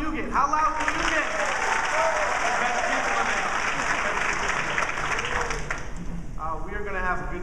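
Loud, continuous clapping from a conference audience at the Web 2.0 Expo in New York fills the room as people try to be as loud as possible, with a speaker's voice heard over it at the start and again near the end.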